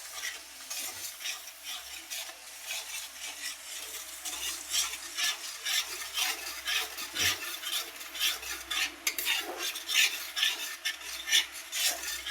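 Drumsticks fry in hot oil in a home kitchen while being stirred, a steady soft sizzle broken by repeated scraping and clinking of a spoon against the pan, fairly quiet and close with no talking.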